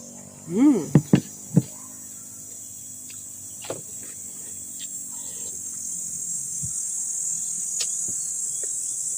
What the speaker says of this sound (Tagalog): Tapos may huni ng kuliglig.